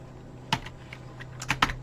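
Keystrokes on a computer keyboard while entering a Control+arrow shortcut in MuseScore notation software, a handful of close, crisp clicks in two small bursts over a steady low hum.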